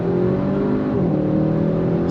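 An Audi RS 6 Avant with quattro all-wheel drive revs hard on throttle, its engine a loud, sustained near roar with a slight pitch shift across two seconds.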